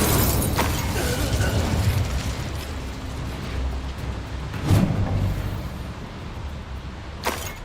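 Spell blasts and bursts from the Hogwarts Legacy video game, a dense wash of magical rumble and whooshes with a few sharper impact pops, one strong burst near the middle and another near the end, under faint voice.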